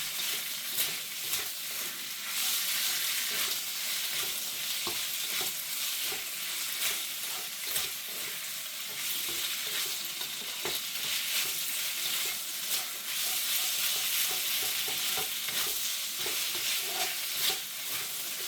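Chicken, shrimp and vegetables stir-fry in an inexpensive wok, a constant bright sizzle broken by frequent scraping and tossing strokes, steady and close throughout with no voices.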